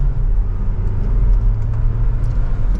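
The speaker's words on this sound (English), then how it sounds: "we can give it a little bit of gas to merge into traffic here" A 2024 Hyundai Tucson Hybrid Limited SUV gains speed from second gear to merge into traffic, its steady engine and road rumble loud and continuous throughout, with no talking.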